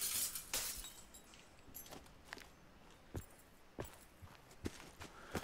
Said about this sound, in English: I always prefer smashing the windows before I jump through them